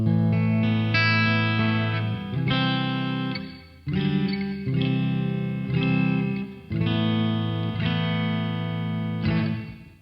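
Jackson King V electric guitar played clean through the bridge pickup, ringing strummed chords with chorus-like shimmer, loud and close, in several sustained phrases that decay and restart, with no talking.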